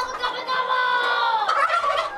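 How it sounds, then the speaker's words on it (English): Poultry on a farm with about 500 chickens: a continuous chorus of clucking and warbling bird calls, fairly close and steady, with no talking. "We have 500 chickens."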